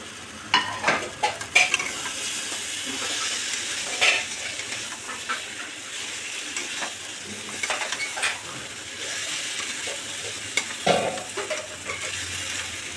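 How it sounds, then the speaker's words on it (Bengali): Crabs fry in a pan of spiced masala with a continuous sizzle, broken by scraping stirs and occasional metallic clinks of a spoon against the pan. "এবার এই কাঁকড়াগুলো ভাজা দিয়ে দেব"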